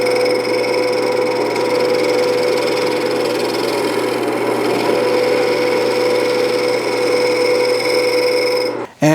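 A wood lathe reshaping the outside of a round-bottom bowl: a loud, continuous whirring drone with steady scraping, then a brief break and a jolt just before the end.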